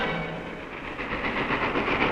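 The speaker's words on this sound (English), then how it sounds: "The 70-ton locomotive runs wild" A 70-ton locomotive runs wild on rails, a dense, continuous rumble and clatter of wheels and wagons with faint rhythmic clacking, loud and steady throughout.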